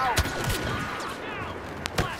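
Enemy gunfire in a Star Wars video game: a few sharp, punchy shots, one early and another near the end, over a steady bed of game noise.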